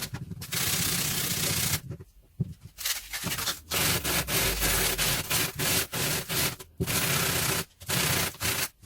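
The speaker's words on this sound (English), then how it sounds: "I've been sanding now for about 20 minutes non-stop" Hand sanding of a paper ball being polished smooth: rapid, dry scratchy rubbing in repeated bursts with short pauses, close and fairly quiet, no talking.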